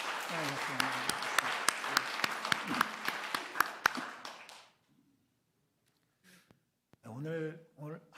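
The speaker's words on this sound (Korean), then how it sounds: "우리 앙상블 팀을 향해서도 우리 감사와 격려의 박수를 하나님께" Congregation applause for the ensemble team at a Korean church Sunday service: sustained clapping with sharp individual claps for about four and a half seconds, fading out before a short spoken remark.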